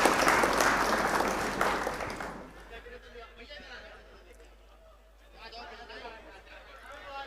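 Audience at a mushaira and honour ceremony in Khatauli, Muzaffarnagar applauds for about two seconds, then the clapping gives way to murmuring crowd chatter.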